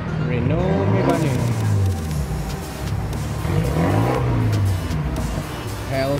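A Dodge Hellcat's engine revs up and passes nearby at a Daikoku parking lot car meet, with rising and falling engine tones over a steady crowd rumble and people talking throughout.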